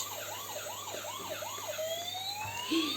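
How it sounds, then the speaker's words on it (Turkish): A police car siren wails, cycling up and down several times, then shifts to a long rising tone, with steady road noise underneath. "Olay yerine polis arabası geldi."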